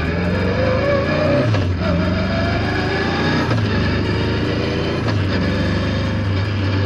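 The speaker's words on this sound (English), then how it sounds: "Listen to this gear change, right?" A turbocharged K24-powered Toyota MR2 with a Quaife sequential gearbox drives under load, its loud engine drone briefly dipping in pitch at each of several quick gear changes, heard close from inside the car.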